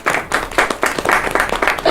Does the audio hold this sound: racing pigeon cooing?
no